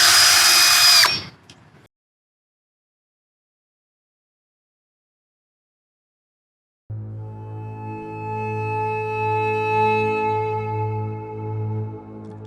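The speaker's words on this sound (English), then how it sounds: "hand me that drill" A power drill spins up after a burst of noise and a long silence, its motor whine steady and close, with a ratcheting mechanical edge, running for several seconds.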